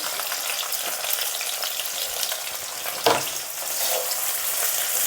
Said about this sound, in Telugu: ఇది తాలింపు వేగిందండి